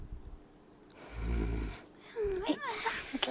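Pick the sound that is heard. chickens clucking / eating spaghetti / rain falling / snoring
snoring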